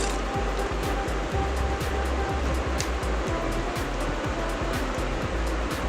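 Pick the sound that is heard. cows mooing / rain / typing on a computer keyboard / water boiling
water boiling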